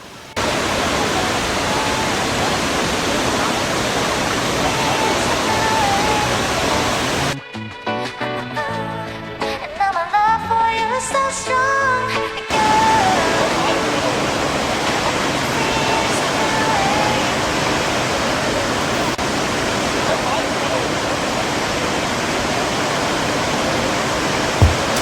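Athirappilly waterfall roaring as a dense, steady rush of water that fills the whole span, briefly dropping away for a few seconds in the middle before returning at full strength.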